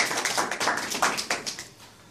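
Audience applause at a Tamil public-speaking club meeting in Riyadh, a steady close patter of many hands clapping that thins out toward the end.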